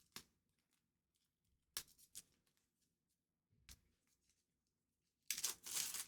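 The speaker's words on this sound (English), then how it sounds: "Might as well open these up if I can get the cellophane off." Cellophane wrapping being torn off a pack of collector cards for the 1981 film Outland, heard as sparse crinkles and short tearing rips close up, ending in a louder sustained crackle.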